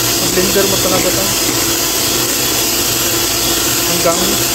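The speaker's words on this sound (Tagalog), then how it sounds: "Blender mo talaga ito" Constant whirring motor noise of an electric mixer blending pancake batter, running steadily, with faint voices under the drone.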